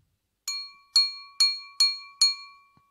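A drinking glass struck five times in a steady rhythm, each hit a bright, clear musical ring that decays slowly. Close, clean and fairly quiet, with no voices.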